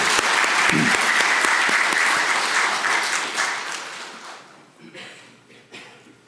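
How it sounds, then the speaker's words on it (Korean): Congregation at an Easter Sunday church service breaks into warm, enthusiastic applause that fills the hall, then thins and fades out over the last couple of seconds, leaving scattered claps. "우리 다 같이 뜨겁게 박수로 또 격려하도록 하겠습니다"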